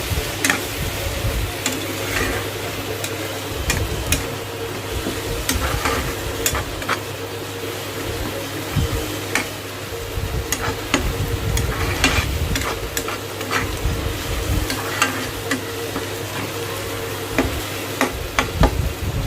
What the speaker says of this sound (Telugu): ఇవి మంచిగా ఫ్రై అయ్యే వరకు ఫ్రై చేసుకొని దీనిలో కొద్దిగా అల్లం వెల్లుల్లి పేస్ట్ కూడా వేసుకొని పచ్చివాసన పోయే వరకు ఫ్రై చేసుకోవాలి